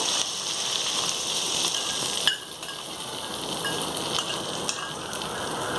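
A spoon stirs hot rice rava upma (rice bran pulihora) just mixed with its tempering, giving a steady soft sizzle and scraping close by, with a few sharp clinks of the spoon against the pan. No one speaks.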